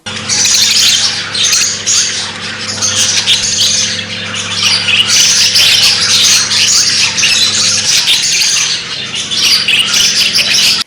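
Budgerigars in a pet shop chirp and squawk nonstop, a dense, loud chatter of many small birds with a faint steady hum beneath.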